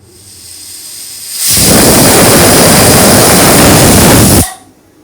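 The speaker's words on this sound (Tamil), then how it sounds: "ஸோ இப்போ குக்கர் விசில் வந்துருச்சு" A loud, steady hiss of steam bursts from a pressure cooker whistle while cooking amaranth greens, holds for about three seconds, then cuts off abruptly.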